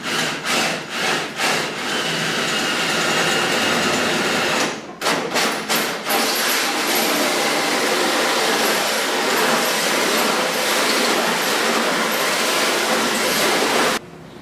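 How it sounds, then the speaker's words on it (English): A power drill with a hole saw cuts a 2 1/4 inch hole in a 1937 Studebaker body, whining loudly and steadily through the material after a few sharp knocks, running for several seconds before stopping. "So I have to drill a 2 1/4 inch hole for this grommet, so I'm going to do that now."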